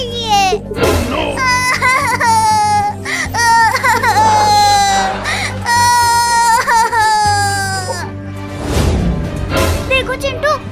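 A high, wavering wail rises and falls in long drawn-out cries, loud and close, with a brief pause before another strained yowl near the end.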